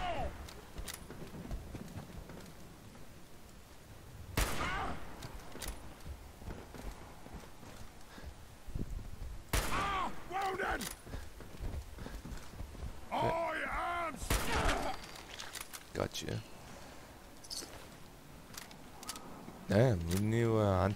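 Rifle gunfire in the video game Fallout 4, with several sharp shots spread through the stretch amid game ambience and footsteps, sounding close and fairly loud against a busy background.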